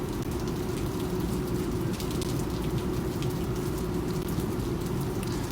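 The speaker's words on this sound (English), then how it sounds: "then it started to rain. And, you know, listen to the raindrops" Rain pours steadily onto a street in Havana, Cuba, a dense, even hiss of drops striking hard surfaces, close and continuous with no pauses.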